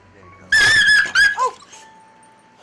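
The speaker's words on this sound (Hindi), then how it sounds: "कछुए ने अपने मजबूत जबड़ों की पकड़ से कुत्ते की नाक को इतनी जोर से काटा कि बेचारे की चीख ही निकल गई।" A dog yelps sharply after a turtle clamps its strong jaws on the dog's nose, giving a burst of loud high-pitched cries that tail off into fainter whimpers.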